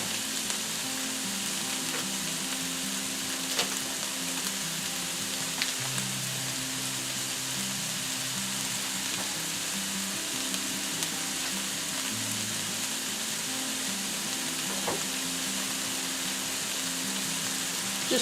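Butter, about two tablespoons, sizzles steadily in a pan while preparing a broccoli and ham quiche, a constant fine crackle with a few sharper pops over a low hum, close and even throughout with no talking.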